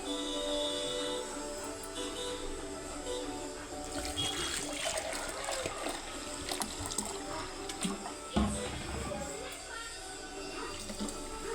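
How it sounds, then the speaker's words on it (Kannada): Water runs steadily for several seconds, a continuous splashing flow like liquid poured into a vessel, with a brief clatter near the end. "ಅದಕ್ಕೆ ಸ್ವಲ್ಪ ನೀರು ಹಾಕ್ತೀನಿ"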